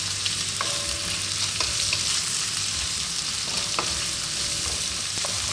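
Fresh chili and onion stir-fry over high heat with pandan leaves, a dense constant sizzle with occasional utensil taps and scrapes against the pan, close and steady, no talking.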